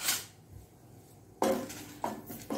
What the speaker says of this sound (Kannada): ಮೆಣಸನ್ನು ಹಾಕೊಳ್ಳೋಣ.